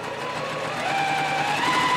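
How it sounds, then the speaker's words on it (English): A sewing machine runs steadily while sewing a blue quilt block piece, giving a close, even mechanical hum with a faint whining tone and no talking. "I'm sewing my last blue piece."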